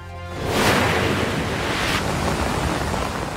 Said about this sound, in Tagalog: Rumagasa ang kulay putik na tubig sa sapa sa Digos, Davao del Sur.